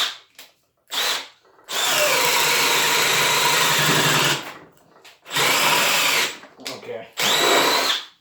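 A Milwaukee M18 brushless drill bores a 15/16 hole at speed 2, running in loud sustained bursts with short pauses and speed changes in between, with a brief spoken word near the start.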